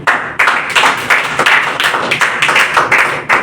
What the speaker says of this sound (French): Est-ce qu'on peut applaudir pour l'innovation?